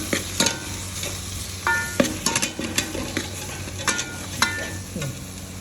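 A spoon stirs chili and coriander powder in a hot pan for beef masala curry, giving a run of close scraping strokes and soft clinks over a steady sizzle, with no voices.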